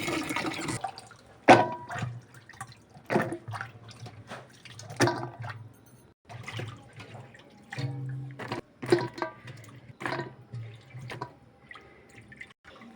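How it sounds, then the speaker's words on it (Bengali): Vegetables are washed in water in a village kitchen: close splashing, dripping and swishing, with intermittent pours and handling knocks running throughout. "এদিকে সবজিগুলো ধুয়ে নিতেছে।"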